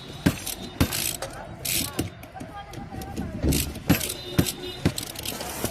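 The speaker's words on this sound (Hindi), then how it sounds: "ये 12 नंबर का बोल्ट हमें खोलना होता है स्टीयरिंग खोलने के लिए" Metal clanks and ratcheting clicks from a wrench loosening a 12 mm bolt on a Wagon R steering rack, several sharp irregular knocks and jangles close by, no talk.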